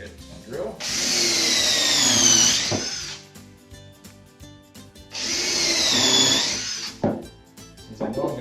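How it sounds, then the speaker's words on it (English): A power drill boring into 2x4 lumber for a beehive stand, two sustained whining runs of about two seconds each, close and loud, separated by a pause with light handling noise. "I'm going to drill the remaining 3. All at once."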